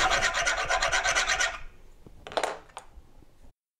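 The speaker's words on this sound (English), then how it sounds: "rasp and be very careful to just remove the wood, try not to touch the metal" Rasp filing the wooden handle of an 8-inch kitchen knife kit, a burst of rapid, rhythmic scraping strokes that stops, followed by a few light knocks and a short rasp before silence.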